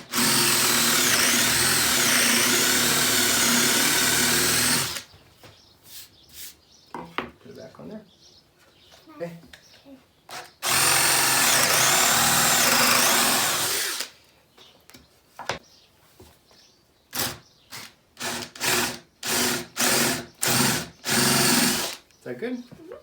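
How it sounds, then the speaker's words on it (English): Two long bursts of a power drill boring into wood, whining loudly for several seconds each, separated by brief speech and scattered knocks and clatter. "I'm going to go ahead and drill this hole about halfway through and then finish it from the other side"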